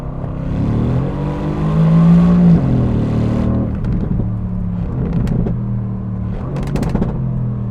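A Mercedes-AMG E63 S on a race track revs hard, its loud engine note climbing before dropping away, then further sharp blips and revs follow, close and loud with no talking.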